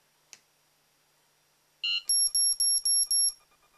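An Elite-Tek ET-9888 remote dog training collar gives six short, loud, evenly spaced electronic beeps in quick succession, each a bright, piercing tone, after a faint click and a brief lower chirp.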